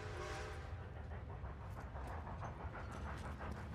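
A train approaches in Red Dead Redemption II, a rhythmic, chuffing steam-locomotive rumble with repeating puffs over a low continuous roar, steady and fairly loud, with no talk.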